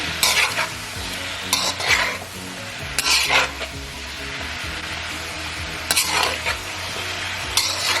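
Broccoli and shrimp stir-frying in a pan, with a steady sizzle broken by several bursts of scraping and stirring against the pan and faint utensil clinks. No one speaks.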